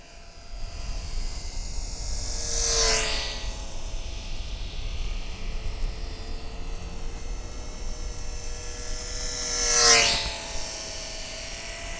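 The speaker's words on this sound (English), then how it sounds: "It's such a peaceful little airplane." A small Eachine Mini Mustang P-51D RC airplane flies around outdoors, its steady electric motor whine holding throughout, with two louder fly-by swells as it passes close overhead.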